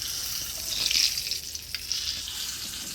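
Green chilies frying lightly in hot oil, giving a steady close sizzle that swells briefly and then settles.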